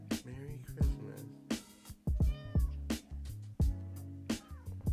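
A pet cat meows repeatedly at close range, a series of short, loud, uneven cries with brief gaps, and a voice can be faintly heard in the background.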